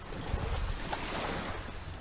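Waves roll in against a pier as high tide comes in, a steady broad wash with wind noise on the microphone.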